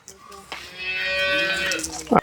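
A dairy cow on a Tamil farm gives one long, loud, drawn-out moo, with a short grunt just before it and a snort at the end, heard up close with no one talking.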